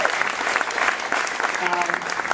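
At an LGBT Pride event, an audience applauds a band with a steady burst of crowd clapping, with voices and cheers mixed in.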